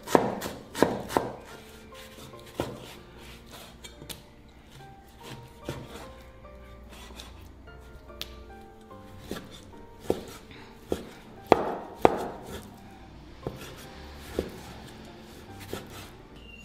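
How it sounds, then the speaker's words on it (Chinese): A knife chops scallions, garlic and ginger on a cutting board, close sharp knocks coming in irregular bursts with short pauses between them. "切点葱段、大蒜、"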